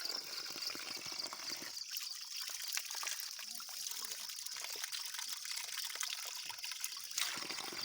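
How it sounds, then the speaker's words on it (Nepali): Water trickles and splashes steadily from an old public drinking-water spout, a faint, continuous outdoor flow that runs unbroken and alone for several seconds. "यहाँ पानी खाने दारा छ है।"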